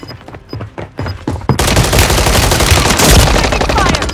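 Gunfire in Call of Duty Warzone: a few sharp separate shots at first, then a loud, dense, continuous burst of automatic fire and explosions that fills the rest, close and harsh.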